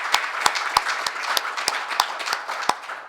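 Audience applause at an FAO forestry committee special event in 2014, given for speakers and contributors: a room of hands clapping steadily for about three seconds, with sharp individual claps standing out from the dense patter at middling loudness.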